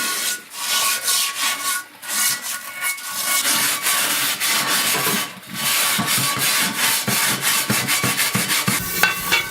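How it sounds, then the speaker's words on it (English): A wire bristle brush scrubs loose rust off a cast iron pan, a steady close-up rasping and scraping in quick repeated strokes with short pauses and no talk. "brush off all of that loose rust"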